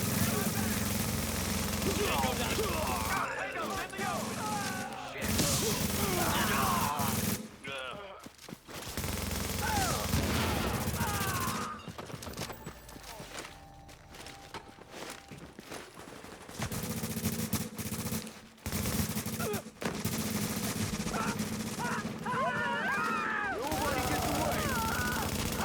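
Sustained bursts of rapid gunfire in a video game, loud and dense, cutting out in short gaps and returning, with a voice speaking over parts of it.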